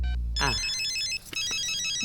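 A telephone rings in a Tamil film scene, loud bright electronic ringtone tones repeating in a quick pattern after a short sweeping sound, with no voices.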